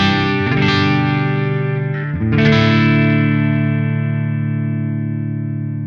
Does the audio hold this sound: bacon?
no